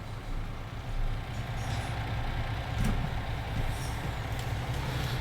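A truck in the farming game Farming Simulator 19 drones with a steady, close, low engine rumble throughout, with a faint brief hiss near the middle.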